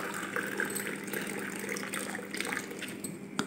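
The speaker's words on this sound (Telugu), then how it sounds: "ఇప్పుడు పర్పల్ టీ కోసం మనం వేడి నీళ్ళు పోసుకుందాము." Hot water is poured over butterfly pea flowers to make purple tea, a faint, steady liquid trickle and splash heard close by.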